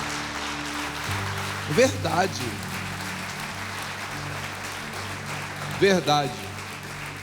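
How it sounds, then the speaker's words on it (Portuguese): Applause from a church congregation rising in two short bursts, one near the start and one near the end, over a low sustained hum of instruments, with someone speaking in between. "Aplauda Jesus."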